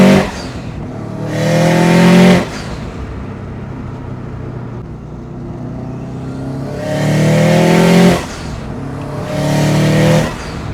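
A 2005 Subaru STi engine revs hard in repeated bursts of about two seconds during wastegate tuning, loud and close, falling back to a rough idle between pulls.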